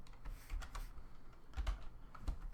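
Typing on a computer keyboard, soft irregular key taps clicking quickly and close in a quiet room, with a few heavier strikes.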